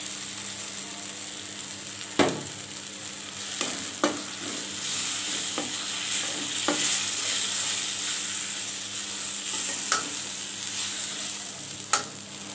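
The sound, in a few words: spice paste frying and being stirred with onion and garlic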